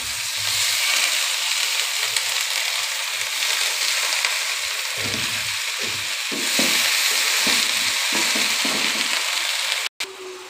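Taro leaves go into a hot pan of oil with jackfruit and shrimp, sizzling and frying steadily for the whole stretch. Bursts of stirring and scraping come through in the middle, and a brief click sounds near the end.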